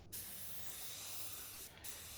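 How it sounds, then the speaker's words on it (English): Steady, continuous hiss of a paint spray gun running close by, test-spraying its pattern, unbroken for about two seconds with brief gaps at the very start and near the end. "handy to test my spray pattern on my gun before actually hitting the material"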